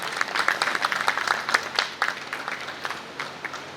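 An audience claps in sustained applause at a felicitation ceremony held by a community trust in Anjar. The clapping is moderately distant, rapid and uneven, and no one speaks over it.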